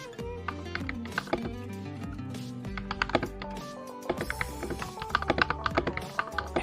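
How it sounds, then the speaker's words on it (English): Rapid, clattering typing on an RK96 budget mechanical keyboard with RK linear switches, dense uneven keystrokes and thocky bottom-outs close to the mic, with no talking. "The RK96 comes with RK linear switches, and that's how it sounds."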